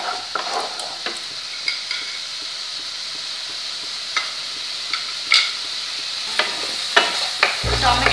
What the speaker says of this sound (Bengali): খুব ভালো করে জিনিসটা কষতে হবে যাতে গায়ে গায়ে টমেটোটা লেগে যায়